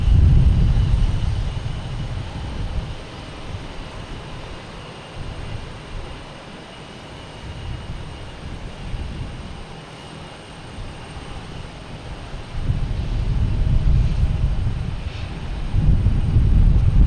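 Delta Airbus A321 jet taking off toward Detroit from Boston Logan, a broad low engine roar that swells, eases through the middle, then builds loudly again near the end, with no voices.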